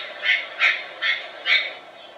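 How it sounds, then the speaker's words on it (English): A parrot call played back from a printed bird sound book, sounding as four evenly spaced squawking bursts about half a second apart, moderately loud and alone. "It's another parrot."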